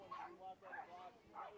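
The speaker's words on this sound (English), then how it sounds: "a couple dogs in the area that are yapping at each other again" Several dogs yap and whimper at each other at a softball tournament. Three quick bursts of high-pitched yipping come close together and sound fairly near.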